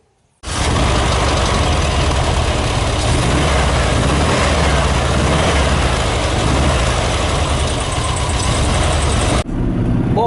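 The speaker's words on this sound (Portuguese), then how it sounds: "o motor já está aquecido" A warmed-up 1993 Volkswagen Kombi engine runs steadily and loudly up close, a dense continuous rumble that starts abruptly and holds evenly for about nine seconds before cutting off.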